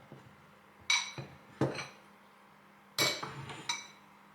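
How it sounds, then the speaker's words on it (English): A metal spoon scrapes and clinks against a bowl while scooping out the inside of a vegetable for vegan Greek stuffed vegetables, four or five short, close knocks with quiet pauses between. "we're going to get a spoon and scoop this out"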